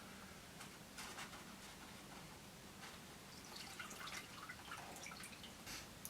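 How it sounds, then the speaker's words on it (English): Cocktail liquid dripping slowly through a coffee filter during fine straining, a quiet, sparse patter of small drips over a low steady background, with no talking. "It's going to drip through that coffee filter really slow"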